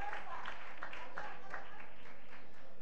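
Brief burst of audience applause at a live music show in Don Benito, clapping rising and fading over a few seconds with speech mixed in.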